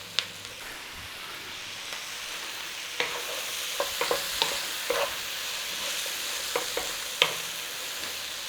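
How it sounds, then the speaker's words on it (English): Mushrooms frying in a pan with flour for a chicken à la king, a steady soft sizzle broken by occasional sharp scrapes and taps of stirring, moderately quiet and with no talking. "We cook these for a minute or so just to get some cooking on the mushrooms"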